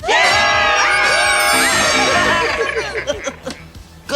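A crowd screams and cheers in a played film clip, a loud dense wash of overlapping shrieks and whoops that breaks into scattered shouts near the end.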